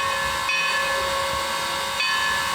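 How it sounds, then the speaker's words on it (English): Everett Railroad No. 11, a 2-6-0 Mogul steam locomotive, lets out a loud, continuous steam hiss overlaid with a sustained, steady whistle tone, close and unbroken for the whole stretch. "We'll be riding behind Everett number 11, a 260 Mogul steam locomotive"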